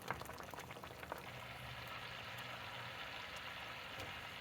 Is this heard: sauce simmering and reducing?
yes